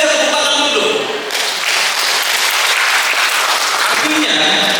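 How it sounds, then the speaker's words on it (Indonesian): An audience at a small-business marketing management training seminar bursts into loud, dense clapping that holds steady for several seconds, after a brief voice at the start. "Ini supporter luar biasa, tepuk tangan dulu."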